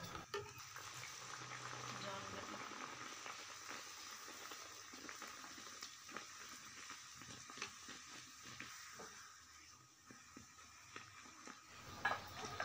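Shrimp puris fry one by one in oil over low heat, making a soft, gentle bubbling sizzle that stays faint and even throughout.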